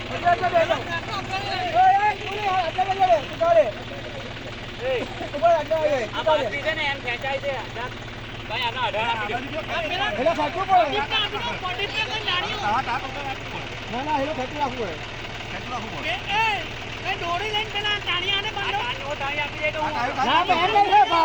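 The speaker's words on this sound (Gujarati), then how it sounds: "જો આ સાફ કરે છે, આ ટ્રેક્ટરથી ખેંચાવે છે." A tractor engine runs steadily while pulling equipment to clean out a farm canal in a Gujarat village, its low drone continuous beneath a crowd's constant chatter and voices throughout.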